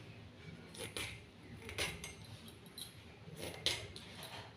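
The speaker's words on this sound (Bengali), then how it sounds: "এর খোসাটাকে আমি বটি দিয়ে তুলে নেব।" A fresh coconut's skin being peeled off in small pieces with a boti blade, giving quiet scraping and clinking strokes at an irregular pace, close by with no talking.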